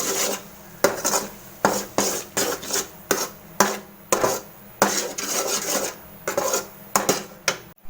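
Ashoka halwa is stirred in a pan over low to medium flame, with steady rhythmic scraping strokes of a spoon against the metal, roughly two per second, close and moderately loud with no talk.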